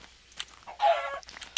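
Chickens clucking in Minecraft during an ultrahardcore tournament match: a few short, close game clucks, one louder squawking burst in the middle, with no talk over them.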